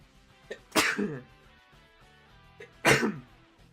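A person sneezes twice indoors, each a short inhaled catch followed by a sharp, loud burst, spaced about two seconds apart in an otherwise quiet room.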